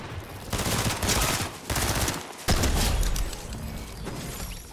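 Rapid bursts of automatic gunfire in the Fortnite Chapter 5 video game, fired to shoot out built structures, come in two or three loud, dense volleys separated by short gaps.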